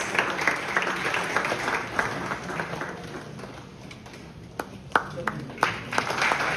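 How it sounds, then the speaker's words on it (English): Conference audience at a university valedictory session claps in a loose, thinning round of applause, moderately near, with scattered sharper individual claps toward the end. "I request everyone to please give them a huge round of applause."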